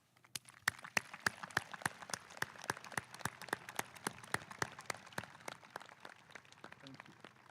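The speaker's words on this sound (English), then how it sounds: "Let's give all those folks a round of applause." Applause rolls through a university commencement ceremony, an even stream of claps at moderate distance with a few sharper strikes and no pauses.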